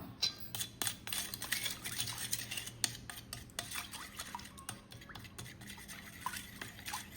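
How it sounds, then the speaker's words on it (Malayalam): Milk being stirred into a bread-fry batter in a bowl, a spoon scraping and clinking against the sides in quick, irregular strokes, close and clear, with no talking. "നമുക്ക് കുറച്ച് പാൽ ഒഴിച്ചിട്ട് മിക്സ് ചെയ്യാം."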